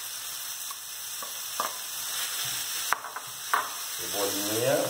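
Chopped onion goes into a hot pan with oil and garlic and fries with a constant bright sizzle, broken by a few sharp clicks and scrapes of a utensil, the crackle swelling louder toward the end, no talking.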